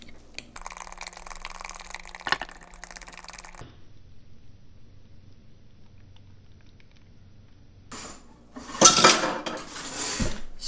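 Dairy-free pancake batter of almond, coconut and cassava flour, eggs and monk fruit being mixed in a bowl, heard as a stretch of scraping and clinking, a quiet pause, then louder utensil-on-bowl knocks and splashy stirring near the end.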